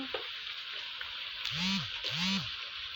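Spice masala for a desi chicken curry sautéing in a pan, a steady close sizzle throughout with two soft scraping stirs of a spoon.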